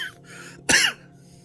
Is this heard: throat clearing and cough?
yes